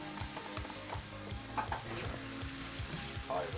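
A spatula stirs and twists noodles in a sizzling pan, scraping in rhythmic strokes over a steady loud fry, close up with no voices.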